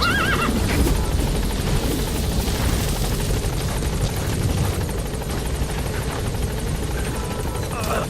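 Support helicopter in the Metal Gear Solid V: The Phantom Pain game, a loud continuous rotor whir and engine drone filling the scene, arriving with a steady dense roar throughout.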